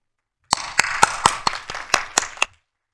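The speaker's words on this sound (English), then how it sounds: "Please welcome him with your big claps for this presentation." Claps from a small conference audience welcoming a presenter, about eight sharp, slightly uneven hand claps spread over two seconds, close and fairly loud, then silence.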